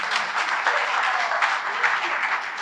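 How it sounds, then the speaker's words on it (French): An audience at a World Radio Day event claps in a dense, sustained round of applause lasting a few seconds, with no voices over it. "Applaudissez, Excellence."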